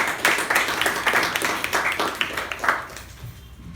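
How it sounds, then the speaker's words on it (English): Audience members at a Toastmasters club meeting give a round of applause, the clapping fairly close and irregular before tapering off near the end. "Let's give him a special round of applause for that."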